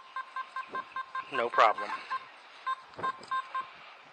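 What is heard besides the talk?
Simplex metal detector tone detecting gold-plated ring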